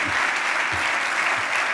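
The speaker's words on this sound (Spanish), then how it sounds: "Un aplaudiment a Núria Camps, sisplau, que està molt nerviosa." Dense, steady applause from the audience at an anniversary gala for a radio station in Lleida, continuous clapping throughout with a few low thumps underneath.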